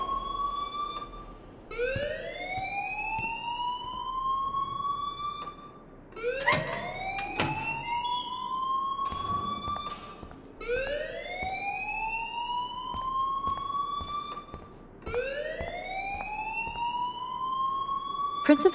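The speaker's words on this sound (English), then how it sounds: "please turn off that alarm since that's your job" A school alarm in a video game sounds in repeated rising electronic wails, each sweep lasting a few seconds with brief gaps between, loud and continuous with some faint voices beneath.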